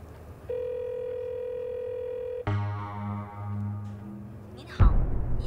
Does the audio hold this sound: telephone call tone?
yes